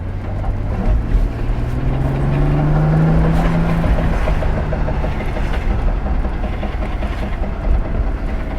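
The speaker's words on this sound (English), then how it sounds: "We got a piece of plastic or something dragging off the back" Loud continuous rumbling road noise with a rising engine whine from a Chrysler Crossfire Roadster, and a rough scraping drag of loose plastic trim on the ground running steadily underneath, no voices.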